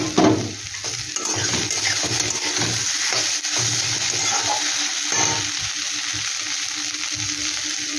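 Potatoes drop into hot oil in a frying pan with a sudden burst of loud sizzling that settles into a steady hiss, with occasional stirring scrapes heard up close.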